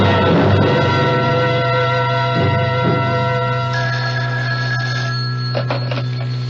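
A telephone rings in a vintage radio mystery drama, its repeated electronic trill steady and fairly loud, with no voices in between.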